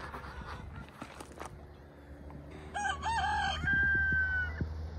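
Rooster crowing among chickens on a bison ranch on a chilly morning, a loud cock-a-doodle-doo rising midway over scattered clucks, footsteps and faint background animal noise, with no talk.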